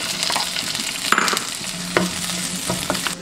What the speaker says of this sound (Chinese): 炒香后下入1小块火锅底料